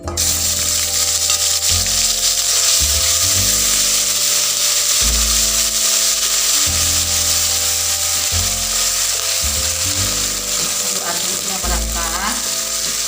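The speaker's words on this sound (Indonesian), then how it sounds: "Minyak sudah panas, masukkan bumbunya." Spice paste for chicken kalio sautés in hot oil in a wok, a loud, steady sizzle with repeated scraping stirs and clatter running through it, and no voices.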